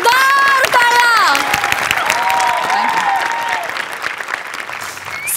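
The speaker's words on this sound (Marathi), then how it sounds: "या कडक परफॉर्मन्ससाठी जोरदार टाळ्या." An audience on a Marathi comedy stage show breaks into loud, sustained applause after a performance, dense clapping running the whole stretch with cheering and sustained tonal voices rising over it at the start.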